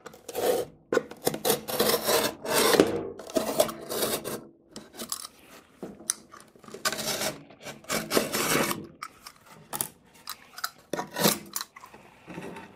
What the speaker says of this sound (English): And then I'll just cut the back side using my utility knife.